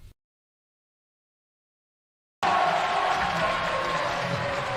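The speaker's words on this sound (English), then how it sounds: "The crowd is absolutely electric" A high school girls basketball semi-state semifinal crowd at LaPorte High School, Lake Central and Homestead fans, bursting into loud, sustained cheering after a silent gap.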